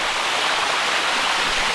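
A waterfall in Chiang Mai, Thailand, pours in a constant, dense, hissing rush of water, close and steady throughout with no voices over it.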